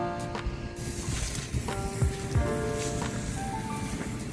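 Pressure washer driven by a 5.5 GPM pump spraying filthy pavers and a driveway treated with 3% sodium hypochlorite: a steady close broadband hiss of water blasting onto the surface, with a few brief tonal whines rising partway through.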